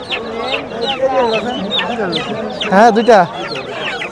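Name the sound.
tiger breed chickens clucking at a rural market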